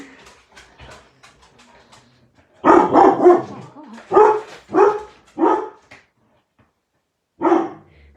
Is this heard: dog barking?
yes